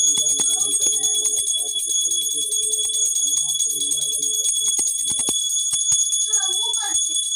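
A bell rings steadily through the whole stretch during home puja worship, bright and sustained, while faint voices murmur underneath.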